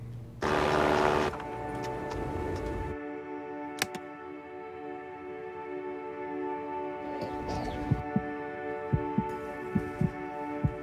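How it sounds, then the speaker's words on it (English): Children's heartbeats are used as the rhythm of a song, heard as faint, steady soft thumps under a sustained musical hum, with one brief loud burst near the start. "This song was created with heartbeats of children in need."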